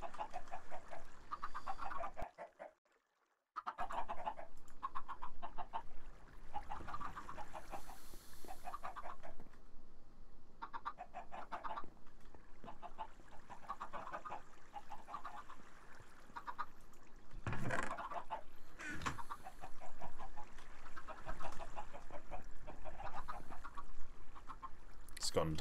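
Chickens in the video game Minecraft, Better than Wolves mod, give short repeated clucks and squawks in quick bursts across a long stretch, with one brief silent gap early on.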